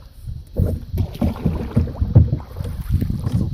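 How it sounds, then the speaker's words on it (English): Breezy wind rumbles and buffets during a canoe ride on the water, a low, gusting roar against the microphone with faint paddling and lapping beneath it. "Kind of breezy out right now."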